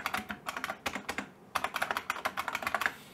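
Rapid keystrokes on a computer keyboard, a burst of clicks, a short pause, then another steady run of typing, close and fairly quiet with no talking.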